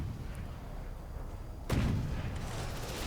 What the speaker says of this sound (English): we actually got our first volley of the small missiles off here